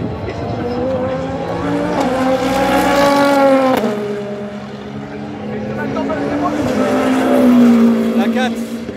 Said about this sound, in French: La 4 qui vient de passer. Matt Campbell passe en 3e position